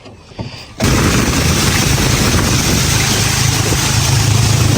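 A boat engine's loud, steady drone starts abruptly after a brief quiet moment and keeps running evenly, low and rumbling throughout.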